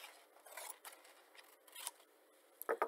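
Scissors snip through fabric pattern pieces for a turban headband, a quiet series of close, short crisp cuts in an irregular rhythm, ending with a few sharper clicks, no talking.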